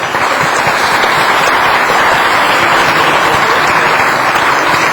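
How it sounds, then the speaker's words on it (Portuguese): An auditorium audience breaks into sustained applause, loud, dense clapping that holds steady throughout without fading. "eu queria pedir uma salva de palmas"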